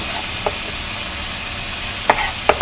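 Chicken and onions frying in olive oil, a steady close sizzle with a few soft stirring clicks and taps on top.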